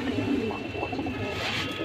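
A male Cobra pigeon, a fancy breed, coos in a low, rolling rhythm, close and steady against faint loft noise.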